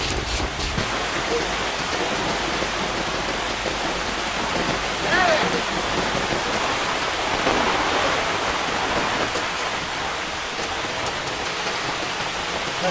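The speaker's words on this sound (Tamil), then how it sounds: "மழை இங்க ஊத்திட்டு இருக்கு." Steady heavy rain pours down continuously, a dense hiss of water hitting surfaces that stays loud throughout with no letup.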